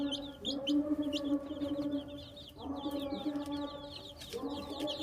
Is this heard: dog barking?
no